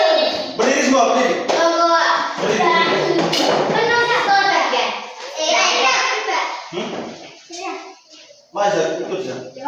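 A group of schoolchildren claps together in a spirit-clap routine in a classroom, rhythmic hand claps mixed with loud children's voices chanting and talking throughout, with a few brief pauses.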